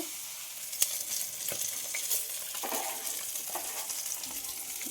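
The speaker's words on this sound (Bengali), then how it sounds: "এখন মাছ ভাজা হচ্ছে" Fresh pond fish frying in oil on a clay stove, a continuous crackling sizzle with sharp spits and pops, close and moderately loud, no voices.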